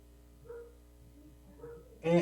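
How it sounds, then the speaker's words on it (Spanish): A small dog at home gives a couple of soft yips, then a single loud, close bark at the very end against a quiet indoor background. "aquí tengo un perrito medio latoso"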